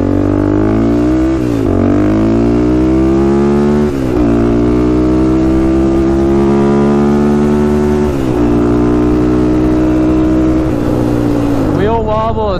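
A Honda 400ex ATV engine runs steadily through a test ride checking for wheel wobble, its loud close buzzing note rising and falling with throttle changes, with a sharp rev near the end.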